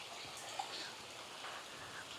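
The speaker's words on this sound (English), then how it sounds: "Definitely slippery out here in this rain." Steady rain falls on a hiking trail in Florida's Black Bear Wilderness Area, an even, close patter of drops with no talk.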